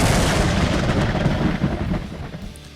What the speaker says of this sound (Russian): Во время грозы самым страшным кажется гром.